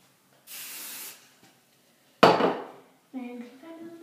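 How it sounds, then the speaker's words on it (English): Hairspray hisses out of a can onto teased cheer hair in a short burst, followed by a louder sharp spray blast, then a brief clatter and a few tonal clicks. "And then just spray it."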